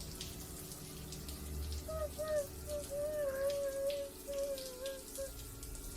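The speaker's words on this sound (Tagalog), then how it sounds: "May bigla akong narinig na paglagaslas ng tubig sa loob ng banyo." Water splashing and running inside a bathroom, a steady watery wash with droplet-like patter, heard alone without speech at a moderate level; a faint tonal whine drifts through the middle.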